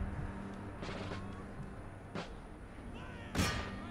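Musket volley fire in the battle game Empire: Total War, heard as dull, distant bursts of massed shots against a steady battlefield din, with one louder crack near the end and a voice faintly under the noise.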